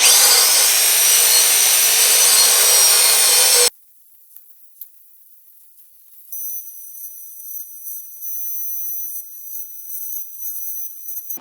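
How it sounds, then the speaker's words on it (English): Belt sander grinding a small steel part for a homemade sword-swinging machine: a loud, steady abrasive roar for about four seconds that cuts off abruptly, followed by quieter intermittent workshop rustling and a faint high whine. "I'll just kind of run this against the belt sander to just get a little bit of material off"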